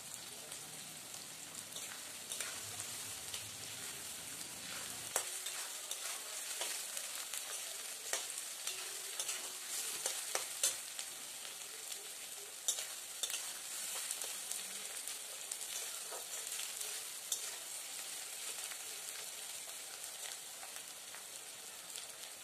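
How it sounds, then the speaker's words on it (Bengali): Sliced onions sizzle in hot oil in a pan, a soft, steady crackle with scattered sharp pops and occasional stirring scrapes, quiet throughout with no voices. "চলুন খুব ভালো করে পেঁয়াজটাকে ভেজে নিই।"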